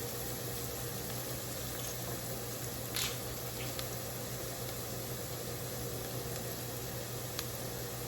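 Wine simmers with clams in a pan, giving a soft, steady bubbling hiss with a faint sizzle and an occasional small tick.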